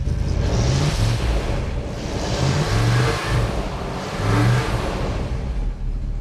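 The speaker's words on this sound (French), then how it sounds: "Écoutez ce vrombissement." An old vintage car's engine revs repeatedly, rising and falling in three or four surges, close and fairly loud with a deep rumble, no talking.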